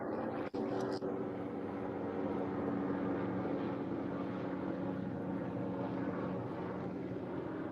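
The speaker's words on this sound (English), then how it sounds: "Police helicopters out." A police helicopter passes overhead in a city, a steady low droning rumble with a short knock near the start, heard alone without speech.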